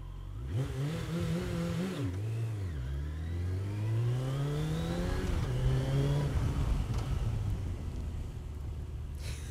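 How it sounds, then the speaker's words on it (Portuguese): Moped engine revving up from a standstill with an uneven, stumbling note that rises and falls in pitch, loud and close throughout with no talk. "Tá dando uma falha na hora de eu sair, cara."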